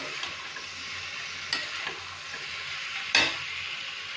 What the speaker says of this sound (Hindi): अब हम इसमें ये अपना ये आलू डाल के अब हमें 4 से 5 मिनट तक तेज आंच पर भूनना है।